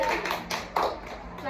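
Children clap their hands in a classroom gathering, a quick run of light claps mixed with young voices talking over them.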